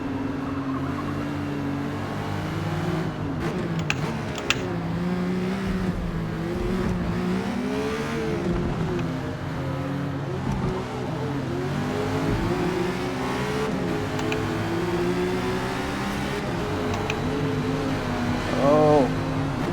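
A race car in the GTX Sportscar Endurance Series sim racing game revs continuously, its engine pitch climbing and dropping through repeated gear shifts, with occasional tire noise, close and sustained for the whole stretch.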